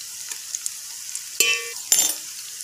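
Ginger and garlic frying with softened onions in a pan over medium heat: a faint, steady sizzle, then two short metallic clinks and scrapes of a utensil against the pan, close by, with no talk.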